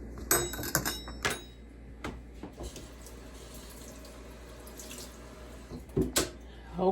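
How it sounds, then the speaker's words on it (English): Water runs from a kitchen tap as someone rinses their hands at the sink. A steady, soft flow continues throughout, with clattering handling and knocks near the start and the end. "Let me rinse my hands."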